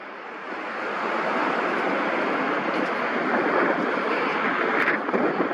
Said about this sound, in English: This is like 12-mile-an-hour wind now coming out of the northeast.